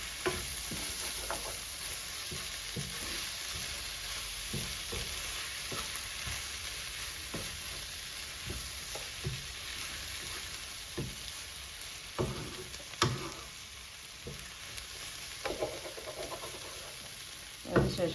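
A Kerala-style prawn roast masala is stirred in a pan: repeated scraping strokes of a spoon against the pan ring out close and fairly loud over a steady frying sizzle, with no talking.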